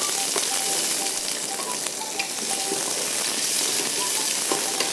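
Sliced onions frying in ghee with spices for an Eid dish, a loud dense sizzle crackling steadily and close throughout, with faint stirring and no speech.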